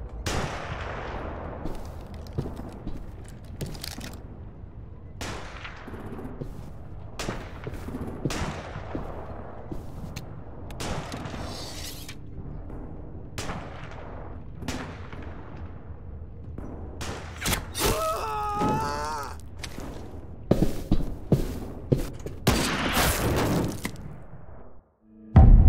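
Gunfire in The Walking Dead video game, Season 4 Episode 3: a long run of sharp shots with decaying tails, then a denser burst of rapid fire near the end, loud and close with no talking.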